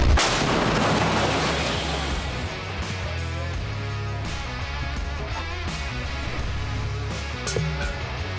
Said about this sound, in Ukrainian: Один снаряд вогонь. Гармата!